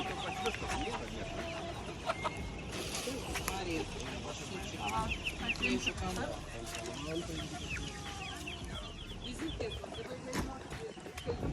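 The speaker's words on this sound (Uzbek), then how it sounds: "Parrandalari." Chickens cluck and squawk repeatedly at a busy Saturday farmers' market in Lithuania, with constant crowd chatter and voices talking over the birds throughout.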